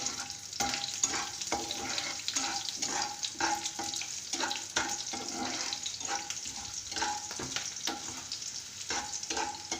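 Sliced garlic sizzling in a mix of oil and ghee for palak paneer, a steady close crackling fry with bursts of popping throughout and no talk.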